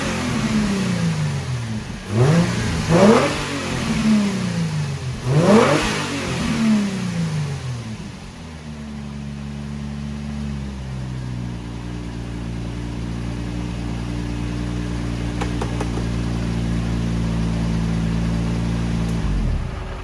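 An Infiniti G35 engine, sitting in a cut-up car, revs hard in several rising and falling bursts, then settles into a steady mid-pitched drone that cuts off at the end. It is heard close and alone.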